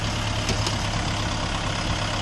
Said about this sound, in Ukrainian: Тракторець 4-циліндровий на 50 кінських сил.